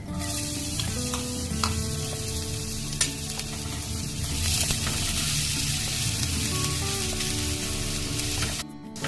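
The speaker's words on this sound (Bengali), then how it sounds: "রসুনটা একটু ভাজা ভাজা করে নিলাম।" Chopped garlic frying in hot oil with whole spices (cardamom, cloves, cinnamon) in a pan, making a loud, steady sizzle with occasional utensil clinks and stirring, close by and continuous.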